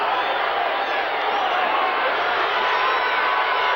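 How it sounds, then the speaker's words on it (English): Football stadium crowd at a 1981 Raiders–Chiefs game in Oakland, a dense, steady roar of many voices filling the air without a break, loud and continuous. "Mark Wilson tries to quiet the crowd"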